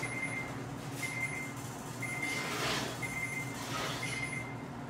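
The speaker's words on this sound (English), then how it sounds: "we hear our timer going off" An oven timer beeps in a home kitchen after a peach cobbler finishes baking, giving five evenly spaced high electronic beeps about a second apart over a steady low room hum.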